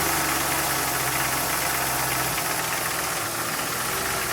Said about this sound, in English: Well, sounds a little like a diesel.